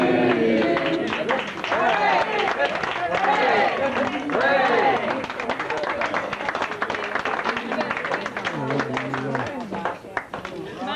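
A family group claps after singing happy birthday at a 95th birthday celebration, with steady close clapping under lively chatter and voices throughout.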